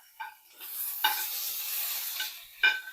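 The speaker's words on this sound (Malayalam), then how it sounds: "അത് ആ എണ്ണയിൽ തന്നെ നമ്മളൊന്ന് വറുത്ത് പോരണേ" About ten small onions fry in hot coconut oil for a moringa leaf chutney, giving a steady close sizzle with a few sharp stirring clicks and scrapes at the start, middle and end.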